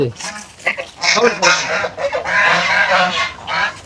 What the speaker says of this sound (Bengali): এই দেখেন এখানেও রাজহাঁস আসছে কতগুলো